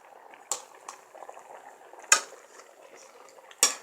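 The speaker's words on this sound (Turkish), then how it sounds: "Biberlerimizi doğradık. Kaynamaya bıraktım." Thick pepper paste bubbles and plops in a pot, with three sharp pops or spatters standing out over a soft simmering hiss.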